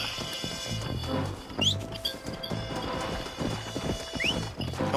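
Hooves clop rhythmically from a horse galloping in the Red Dead Redemption video game, with a few mechanical clinks and short whistling sweeps over a busy game background.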